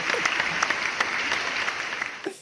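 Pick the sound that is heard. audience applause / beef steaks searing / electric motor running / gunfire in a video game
audience applause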